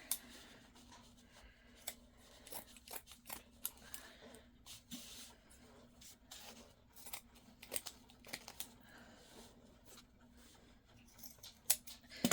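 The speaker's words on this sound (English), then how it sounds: "let me get my scissors and cut a piece" Scissors snip through a drop cloth from the hardware store's paint section, 4 by 12 feet. Repeated crisp cuts come in an uneven rhythm, with faint rustling of the fabric between them, close and fairly quiet, and no talk.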